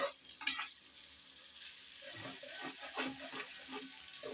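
Onions sauté in oil for vegetable rice, giving a faint, soft sizzle with a few quiet stirring scrapes and spoon taps, heard close but low in level.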